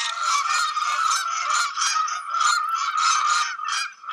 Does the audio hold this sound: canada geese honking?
yes